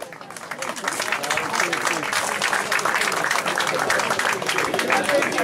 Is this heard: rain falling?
no